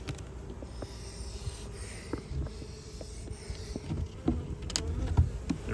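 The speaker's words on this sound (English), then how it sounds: "They're buzzing around a lot today." Honeybees buzz steadily around an open backyard hive during an inspection, a dense low hum of many wings with small scrapes and taps of hive handling mixed in.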